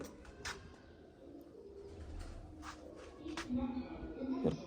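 Pigeons in a coop give low, soft cooing that grows a little louder toward the end, heard alongside faint shuffling and people talking nearby.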